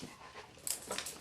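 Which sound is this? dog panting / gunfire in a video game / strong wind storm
dog panting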